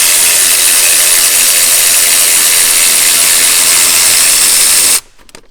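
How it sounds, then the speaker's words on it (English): A ratchet working loose a ground-strap bolt on the FA20 2.0L engine of a 2015-2021 Subaru WRX, a loud continuous whirring rasp that cuts off abruptly near the end. "So I'm just gonna take the bolt loose and leave the ground strap attached to the bracket."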